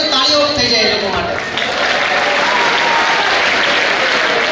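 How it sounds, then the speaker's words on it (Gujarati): An audience at a motivational talk on board exams gives a dense, loud round of applause that carries on steadily throughout. Some voices can be heard faintly under the clapping at the start. "તાળીઓ થઈ જાય એ લોકો માટે"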